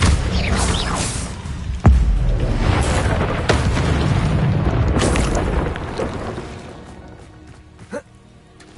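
A Confringo blasting spell from Hogwarts Legacy lands as a sharp boom followed by a rumbling burst, amid other spell blasts and a shouted incantation before a fading tail.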